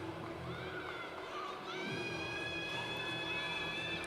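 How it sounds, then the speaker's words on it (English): Spectators yell and cheer for favourite athletes at a CrossFit-style fitness competition, the Austrian Throwdown finals, a steady distant crowd din with high shouts and calls rising over it throughout. "you can hear the crowd here just calling for their box, for their favorite athletes out there"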